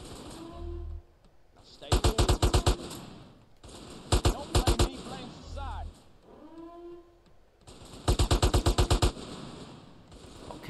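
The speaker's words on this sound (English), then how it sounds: "Plenty of ammo for the assault rifle here." Assault rifle fire in GTA San Andreas Definitive during a break-in at Area 69: three rapid bursts of several loud shots each, set against game ambience and someone talking between bursts.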